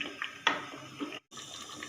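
Water is poured into a cooking pot for daal gosht, a soft, close trickling splash running nearly two seconds with one brief gap.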